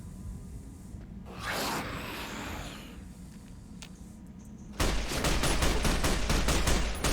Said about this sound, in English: that gun is semi-automatic, but it shoots just about as fast as you can pull the trigger